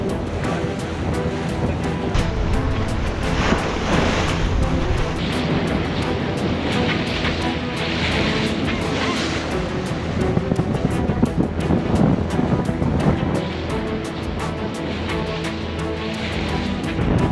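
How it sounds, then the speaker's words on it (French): Strong wind of about 20 knots buffets the microphone while waves rush and slap against a First 36.7 sailboat under way, a loud, continuous roar of gusts and surf. "Alors le vent apparemment il est 20 nœuds là."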